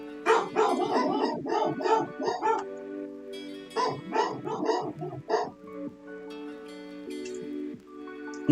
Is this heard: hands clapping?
no